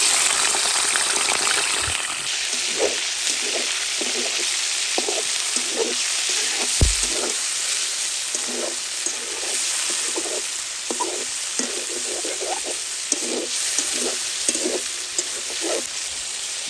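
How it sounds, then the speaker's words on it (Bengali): Chicken sizzles and crackles in hot oil in a wok, a steady dense frying hiss with repeated bursts of spattering as pieces settle and are stirred, close and continuous with no talking. "তেল গরম হয়ে গেছে, এখন চিকেনটা দিয়ে দেবো।"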